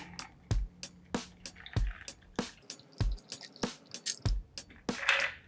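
A Basil Smith cocktail is poured over crushed ice, giving a close series of wet drips, splashes and crackling ice shifts in an uneven rhythm, with no talking.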